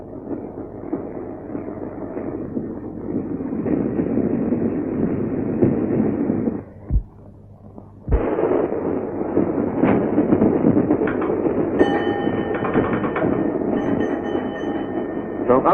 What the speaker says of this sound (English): still the train speeds on to the open north, to Preston, to Lancaster